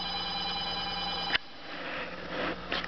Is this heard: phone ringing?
yes